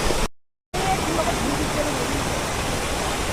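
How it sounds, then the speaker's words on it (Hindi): A natural mountain waterfall along a Munsiyari trekking trail roars with a steady, dense rush of falling water, cut by a brief silent dropout near the start, then continuing loud and even. "ये देखो नेचुरल झरना यहाँ से।"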